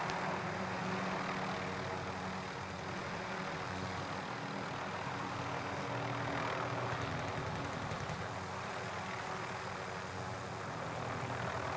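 A helicopter in the Call of Duty Warzone video game drones loudly and steadily, with a dense, unbroken rotor and engine roar that lasts the whole stretch and has no talk over it.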